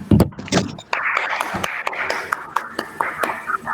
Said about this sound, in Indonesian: Tepuk tangan untuk Sakita